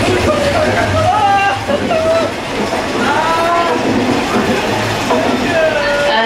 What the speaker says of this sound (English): Attention folks, your train's now moving.